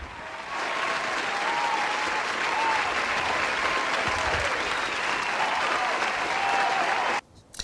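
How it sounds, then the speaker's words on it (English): A live audience breaks into sustained applause, dense hand clapping building quickly and holding loud and steady for several seconds before cutting off abruptly. "So you most certainly get a hand clap from me"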